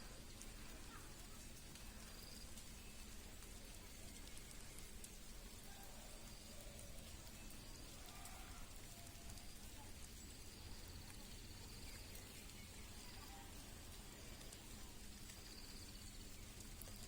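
Steady rain falls continuously, a dense even hiss of drops with no breaks, faint and distant-sounding throughout.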